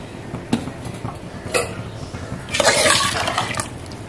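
Water splashes and pours into a cooking pot of country chicken, with a few sharp clinks of metal before a louder, sustained gush of liquid filling the vessel near the microphone.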